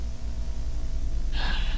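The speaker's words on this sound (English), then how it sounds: "I hear you breathing." A single sharp breath, like a gasp, comes near the end over a constant low electrical hum in an eerie containment setting.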